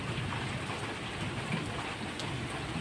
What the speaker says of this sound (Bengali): গুরুম গুরুম করে মেঘ ডাকছে